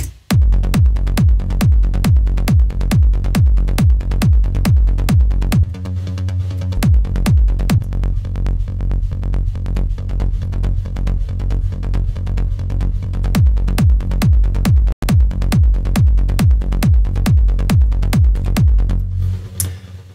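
A steady four-on-the-floor kick drum thumps under sidechained synth chords that duck and swell in a pumping rhythm with each beat, loud and continuous.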